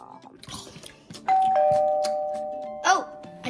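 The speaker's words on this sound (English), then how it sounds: "Oh, I hear the doorbell." A doorbell rings with a long sustained chime tone, then a second ding near the end, over background chatter and household noise.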